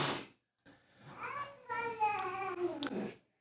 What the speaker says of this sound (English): Mama Kitty. Psst, don't be ugly.